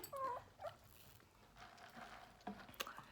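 A dog gives a few thin, high whines in short bursts, fairly quiet against a still room, with a couple of sharper squeaks near the end.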